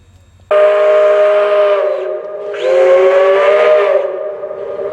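A loud steam whistle blows from Southern Railway steam locomotive 154, a long chord-like blast that dips briefly and swells again, with hissing steam underneath.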